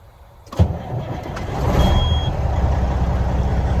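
A Detroit 60 Series truck engine catches with a short burst and then settles into a loud, steady diesel idle rumble up close.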